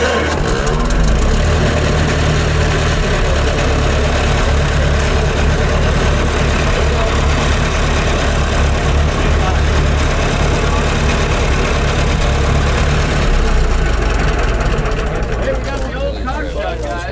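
A tractor engine idles steadily at a farm equipment auction, a loud continuous low rumble under an auctioneer and other voices talking throughout.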